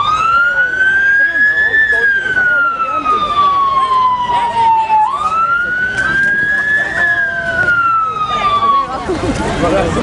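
A loud wailing ambulance siren sweeps up and down in long, rising and falling cycles, close by, with traffic rumble underneath, during a St. Patrick's Day parade in Balbriggan.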